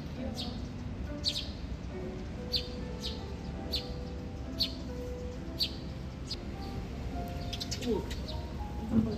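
Sparrows chirping while pecking at bread crumbs at a coastal harbor on Jeju, a scatter of short, bright tweets over steady outdoor wind and surf noise, moderately distant.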